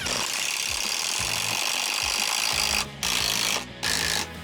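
Screws being driven into mitre joints of a tapered scrap-wood planter, a steady whirring power-tool drone with short pauses, loud and close, no talking.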